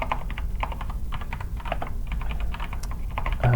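Steady typing on a computer keyboard, a quick irregular patter of light key clicks at close range with no talking.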